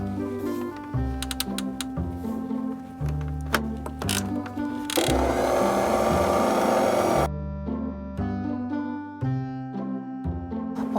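A stand mixer kneads bread dough for sesame chewy bread after butter is added, its motor churning steadily in the foreground with irregular thumps and rattles, swelling into a louder whirring stretch mid-way before settling back.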